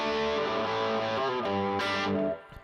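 Overdriven electric guitar from a Gibson SG played straight into a driven amp with only the amp's reverb, loud sustained chords with a brief pause, then cutting off near the end.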